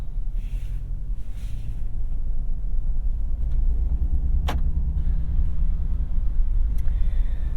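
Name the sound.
Land Rover Defender 90 V-8 driving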